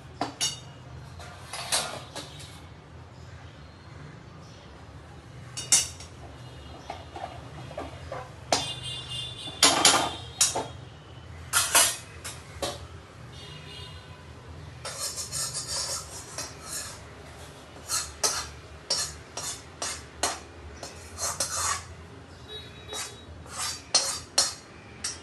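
A spoon scrapes and clinks against a pan while ghee-roasted gram flour for besan ladoo is scooped out into a plate. The sounds are intermittent, with scattered close metallic scrapes and taps over a quiet background.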